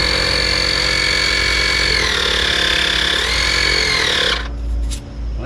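A CARSUN 12V portable electric tire inflator's air compressor motor runs with a loud, steady whine that wavers in pitch, then stops abruptly and leaves low rumbling handling noise.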